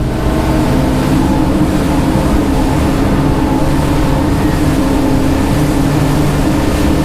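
A 2022 Axopar 37 ST Brabus Line motorboat with twin engines runs at speed, giving a loud, continuous engine drone mixed with rushing water and wind noise, steady throughout with no talking.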